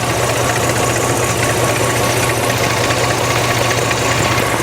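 A car engine idles steadily while its ignition coils are tested with a lab scope, one coil being faulty; a continuous, even mechanical drone runs throughout with no speech.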